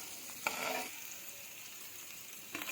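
Capsicum sautéing in a pan, a steady soft sizzle of frying vegetables with a couple of brief stirring scrapes, close by and without talk.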